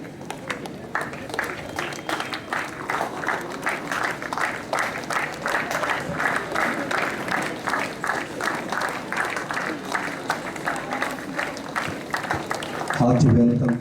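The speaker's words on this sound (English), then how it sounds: "request all to give standing ovation by clapping our hands." An audience gives a standing ovation at a college of education day celebration, with steady, rhythmic clapping from many hands that is fairly loud and continuous and rises briefly near the end.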